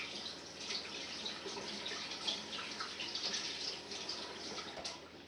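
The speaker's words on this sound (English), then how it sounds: "Wash my sticky fingers." Tap water runs steadily over sticky fingers after mixing oatcake dough in a home kitchen, a soft continuous splashing with faint dripping and no talk.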